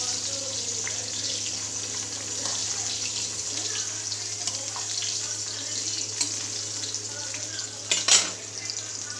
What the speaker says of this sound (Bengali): মাছের ঝালটা বসিয়ে দেবো দুটো কড়াতে বসিয়ে দিলাম